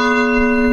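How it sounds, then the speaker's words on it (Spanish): Church bells ring in a small, inexpensive Spanish village surrounded by farmland, a steady sustained ringing with rich, lingering overtones, fairly loud and heard alone without talk. "¡Uy, las campanas!"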